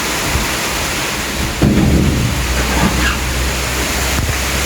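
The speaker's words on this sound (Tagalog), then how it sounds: "ang lakas ng ulan" Heavy rain pours steadily over a garden of potted plants and palms in a storm, a dense, loud, continuous roar that swells around the middle and holds without voices.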